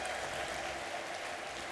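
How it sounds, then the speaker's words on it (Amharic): Church congregation clapping and cheering in praise at a healing service in Addis Ababa, a dense, steady wash of applause filling the whole moment without a break. "እስቲ እንደገና ለጌታ ከፍ ያለ ልልታና ጭብጨባ አምጡ።"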